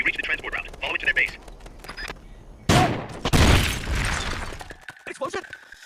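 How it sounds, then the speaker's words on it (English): In the Metal Gear Solid: Peace Walker video game, a sudden loud explosion bursts out midway and fades into a long roaring rumble, with game dialogue voices heard before and after the blast. "An explosion! The enemy's attacking!"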